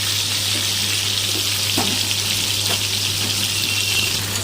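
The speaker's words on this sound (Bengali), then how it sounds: "এখন আমি সমস্ত ঝিঙাগুলো এর মধ্যে দিয়ে দেবো। দিয়ে ভালো করে ভেজে নেব।" Ridge gourd frying in a pan with a constant broad sizzle and a low steady hum, a few soft clinks of stirring, no voices.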